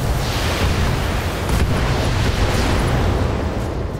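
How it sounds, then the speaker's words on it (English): Ammo explosion in the BattleTech video game, a loud sustained roaring blast that rumbles and crackles for several seconds, heavy and dense with no voices over it. "Ammo explosion."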